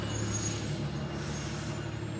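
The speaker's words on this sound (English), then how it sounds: "I think I hear a truck." A delivery truck with air brakes arrives outdoors at a home tiling job, its steady low engine rumble and hiss filling the whole short stretch at moderate level without any speech.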